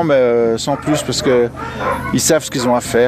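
Sled huskies bark, yip and whimper excitedly close by, a busy overlapping chorus of high dog calls while someone talks over them.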